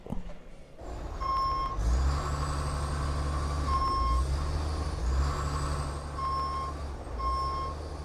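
A snow plow truck reverses with a steady repeating beep at a regular rhythm, over a loud idling diesel engine, with air brakes hissing and releasing a few times, close by and with no talk.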